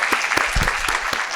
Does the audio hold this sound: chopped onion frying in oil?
no